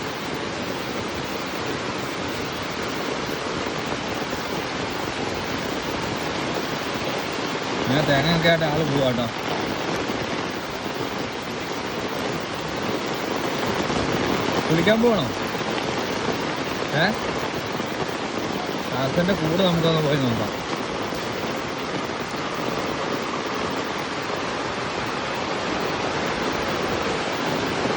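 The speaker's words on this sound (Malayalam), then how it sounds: "ഭയങ്കര മഴയാണ്." Heavy rain pours down steadily over a waterlogged garden, a dense, loud hiss that swells and eases slightly throughout while people talk over it.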